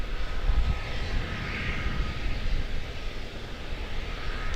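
A fixed-wing airliner departing Charlotte-Douglas International Airport, taxiing toward runway 36 right: a steady, moderately distant engine roar holds evenly throughout without a clear rise or fade.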